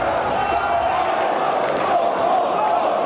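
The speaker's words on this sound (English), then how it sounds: "As the crowd goes wild for the entrance music" A wrestling crowd at a Frontier Wrestling Alliance show in London roars continuously and loudly for a wrestler's entrance music, a dense, sustained wall of cheering and shouting.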